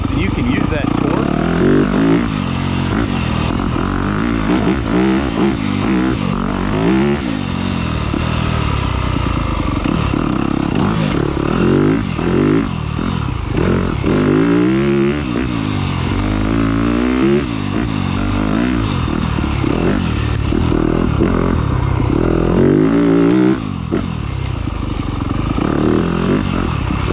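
A 2021 Yamaha YZ250F dirt bike putters and revs through woods, its engine rising and falling continuously close up, with someone talking over much of it.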